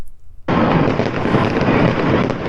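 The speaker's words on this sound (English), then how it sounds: "you'll find some fireworks on a Saturday night" Fireworks over Darling Harbour in Sydney on a Saturday night burst in with a sudden loud crackling roar after a quiet moment, then keep rumbling and popping densely with wind buffeting the microphone.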